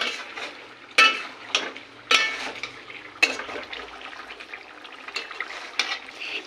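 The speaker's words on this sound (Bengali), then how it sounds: "এখন বাটা পেঁয়াজ রসুন দিয়ে একটু নাড়াচাড়া করে নিলাম" Beef being stirred with ground onion and garlic paste in a pot: a soft sizzle under a few sharp spoon knocks and scraping strokes against the pot, close and moderately quiet, with no talking.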